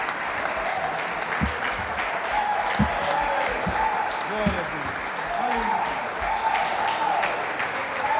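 A church congregation claps steadily and densely throughout, with a preacher's voice speaking over the applause.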